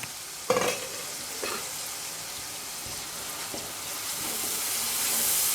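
Spice masala with red chilli powder, salt, coriander and cumin, plus yogurt, stirred and fried in a pan for a daal karela dish: a few scraping stirs early on over a steady, soft sizzle that builds slightly toward the end, with no talking.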